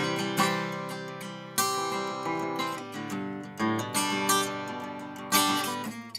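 Guitar strings picked in a strumming exercise pattern, ringing chords struck in repeated bursts roughly every second, each attack decaying before the next, close and clear with no talking.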